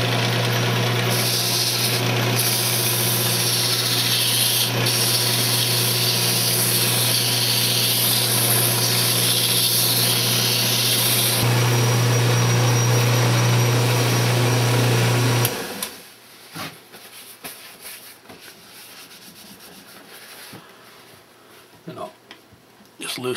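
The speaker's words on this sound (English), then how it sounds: "Now we'll go ahead and sand the bottom up." A wooden candle holder turns on a woodturning lathe as it is sanded, a loud steady whir and hiss with a high whine that stops abruptly partway through, leaving quieter handling sounds and brief talk.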